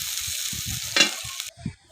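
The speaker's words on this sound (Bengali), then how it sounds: "এবার আমি এগুলোকে কড়াইয়ে তেল দিয়ে ভেজে নেব।" Chopped onion, green chilli and noodle masala frying in oil in a wok for a children's tiffin noodle dish, giving a steady close sizzle for about a second and a half before it cuts away, with faint low knocks underneath.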